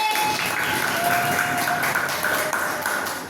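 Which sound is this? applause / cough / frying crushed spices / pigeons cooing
applause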